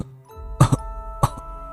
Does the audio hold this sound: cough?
yes